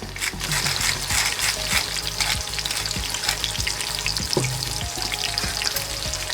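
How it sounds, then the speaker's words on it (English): Onion and garlic with salt and pepper sautéing in a pan for Lebanese green beans in oil, a steady close-up sizzle with regular light clicks of a utensil stirring. "And we're gonna saute them."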